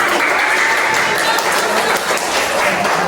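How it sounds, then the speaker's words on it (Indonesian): Classroom of students applauding during a history lesson quiz, loud continuous clapping from many hands close by, with voices mixed in underneath. "Ayo tepuk tangan."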